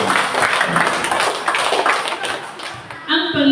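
A congregation at a church service in Jala-Jala, Rizal, claps in a lively burst of applause that fills most of the moment, mixed with voices, before a brief ringing tap near the end.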